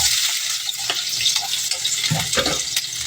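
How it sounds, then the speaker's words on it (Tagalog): Chopped onions hit hot cooking oil for Filipino sarsiadong bangus, giving a steady, close, bright sizzle with occasional stirring scrapes and clatters throughout. "Mainit na mantika, lagyan natin ng sibuyas."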